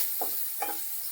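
Chopped onion with cumin and asafoetida sautés in a pan, a steady soft sizzle cut by a few brief stirring scrapes.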